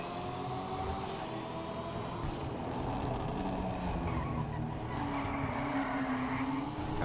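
Car engine in GTA V driven hard with tyres squealing, a steady continuous drone under the noise with no one talking.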